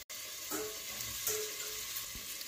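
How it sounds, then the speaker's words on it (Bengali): Potatoes frying in oil, a soft continuous sizzle and bubble heard fairly faint and close with no talk. "দেখতেই পাচ্ছ আমার আলুগুলো কিন্তু একদম পারফেক্ট ফ্রাই হয়ে গিয়েছে।"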